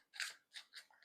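A tarot deck is shuffled in a few quick, soft riffling bursts, close and quiet, each lasting a fraction of a second.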